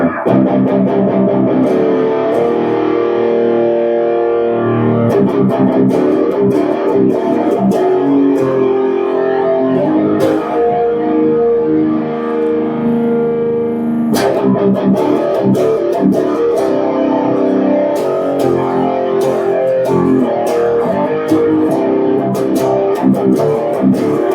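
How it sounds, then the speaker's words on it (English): A loud distorted electric guitar, using its built-in distortion channel, plays chords and riffs continuously, with a brief pause midway before the crunchy playing resumes. "built into the guitar, it's also got a distortion channel"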